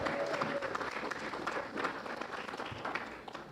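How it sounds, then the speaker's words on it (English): Audience applause at an inaugural ball, a steady wash of many hands clapping at moderate distance for several seconds, tapering slightly at the end. "Let's give him a round of applause for being with us tonight."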